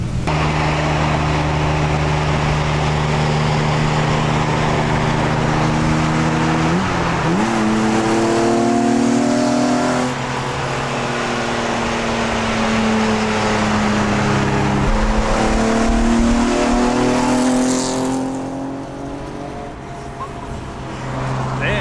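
LS V8-swapped BMW E36 revving repeatedly, the engine pitch rising and falling in long sweeps over a steady loud rumble, heard close outdoors with faint voices in the background.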